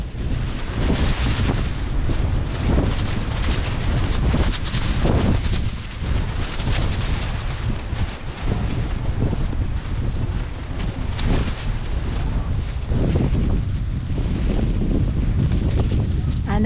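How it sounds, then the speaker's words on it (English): Strong wind from a nor'easter snowstorm in New York roars steadily against the microphone, a loud, continuous buffeting rush with gusty swells and no clear pauses. "the wind is surely picking up"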